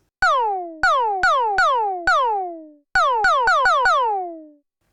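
Synthesized drum hits from a Behringer Syncussion SY-1 voice mixing two oscillators, with pitched, downward-sweeping tones, played alone in a loose rhythm: five spaced strikes, a pause, then a faster run of five.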